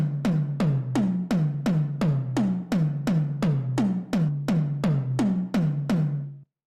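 A drum loop of snare and tom hits with gated reverb repeats about twice a second, each punchy hit carrying a lush reverb tail that cuts off sharply, steady and loud, with no voices, then stops abruptly.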